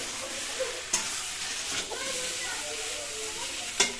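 A ginger and cumin paste with green chillies, black pepper and dried chillies fries in a pan for a fish curry, a constant hissing sizzle broken by a few sharp clanks of stirring.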